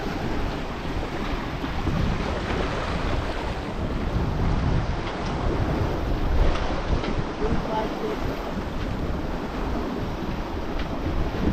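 A sailboat running under full sail before following seas on the open ocean, with steady wind rush and broadband water and hull noise that hold loud and continuous throughout.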